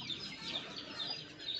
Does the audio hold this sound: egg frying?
no